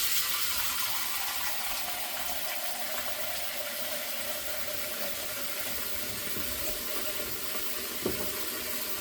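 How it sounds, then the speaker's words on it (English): Kitchen tap running water into a big bowl with salt and lemon juice, a steady close rushing stream with a soft bump near the end. "You're going to fill it with water."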